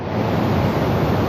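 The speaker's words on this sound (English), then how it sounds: "the ocean waves almost came in and got my whole camera backpack wet" Ocean waves wash in on a shoreline, a steady, loud broadband rush of surf and spray close to the microphone, with no voices.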